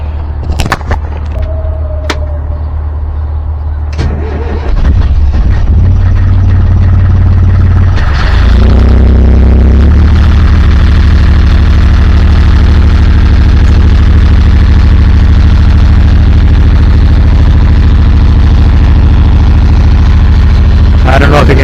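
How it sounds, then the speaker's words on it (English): A Yanmar 3GM30F sailboat diesel engine runs on land, drawing cooling water from a bucket. A few knocks and clicks come first, then the engine starts and holds a loud, steady low drone to the end. "So basically now I just need to run the engine, and it'll start sucking water from here."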